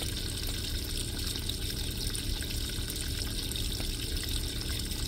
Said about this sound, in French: Vous voyez, l'eau descend. Il va donc re-remplir d'eau propre pour le rinçage, la cuve de lavage.